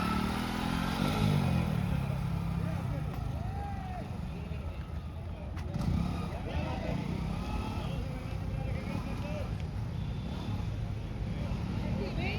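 A vehicle engine revs up and pulls away after a shift into second gear, a steady low drone with a rise near the start, heard under people talking.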